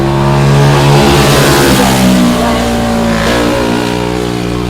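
A four-stroke racing kart engine on a raceway track revs loud and close, its harmonic drone rising and falling as the kart passes, with a faint voice briefly underneath.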